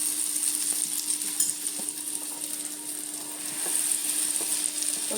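Rice powder roasting and being stirred in ghee in a pan, a steady close sizzle with soft scraping strokes throughout and no talking.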